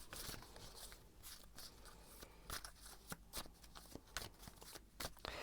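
Tarot cards are shuffled in quiet, soft papery bursts that riffle and slap in an irregular rhythm, close but faint, with no talk.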